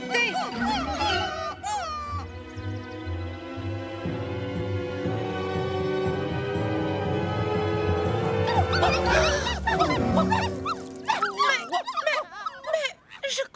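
Cartoon dogs at a dog park yip and whimper in short high bursts near the end, over a bed of music with voices talking throughout.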